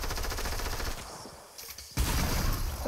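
Shotgun blasts and rapid gunfire in Fortnite ring out loud and close, a dense burst at the start, a quieter gap, then another sharp loud volley, with no talk.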